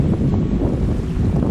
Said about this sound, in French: Je vais vous laisser écouter le bruit des vagues.